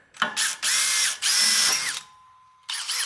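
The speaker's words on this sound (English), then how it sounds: "last step is going to be to match drill our ladder to that backer plate" A power drill whines in several short, loud bursts, spinning up and down as it bites into metal while match-drilling an aluminum ladder to a roof rack backer plate, with a pause before a final burst.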